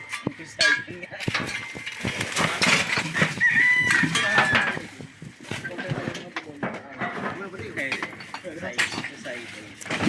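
Chickens cluck and crow nearby while people talk over them throughout.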